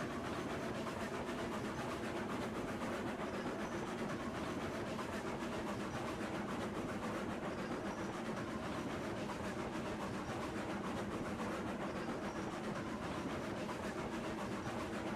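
A train in the Railroads Online game, hauling iron, rolls across a trestle with a steady low rumbling drone that holds even and unbroken throughout, with no distinct clacks or talking.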